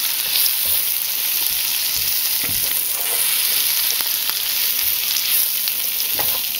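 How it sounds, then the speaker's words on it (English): Vegetables including wilting spinach sauté in a pan, making a constant, close sizzle with occasional soft stirring scrapes and no voices. "Just sauteing it all a little bit."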